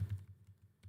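Keystrokes on a computer keyboard while a Laravel command is being entered, a few soft, closely spaced taps heard alone, fairly quiet and close.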